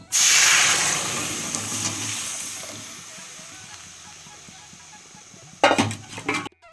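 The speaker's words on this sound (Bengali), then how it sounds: "এখন ডালটা ফোড়ন দিয়ে দেবো" Lentil dal being tempered with spices in a hot pan opens with a loud hiss and sizzle that fades gradually, then ends in a cluster of metallic clinks from utensils against the pot.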